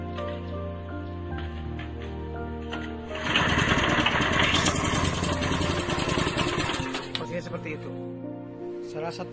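A pellet mill machine motor starts up and runs with a loud, steady mechanical rattle and hum, nearby, with a few tonal hums before it kicks in.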